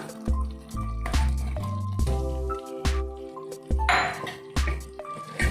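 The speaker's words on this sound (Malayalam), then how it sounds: "നമ്മൾ നേരത്തെ ഫ്രൈ ചെയ്ത് വെച്ചിരിക്കുന്ന റവ മിക്സും ഇതിലേക്ക് ഇട്ട് കൊടുക്കാം." Fried semolina mix is tipped into a pan and stirred, with wet squishy scraping, metallic clinks of a spoon against the pan and soft thuds in an irregular rhythm, close and fairly loud.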